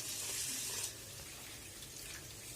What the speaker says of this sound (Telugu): రైస్ కుక్ అవ్వడానికి సరిపోయినంత వాటర్ పోసుకొని పొయ్యి మీద పెట్టండి